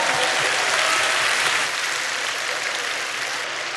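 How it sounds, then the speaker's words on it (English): A live podcast audience breaks into applause, a close, full wash of clapping that is strongest at first and then tapers gradually. "Give him a round of applause, man."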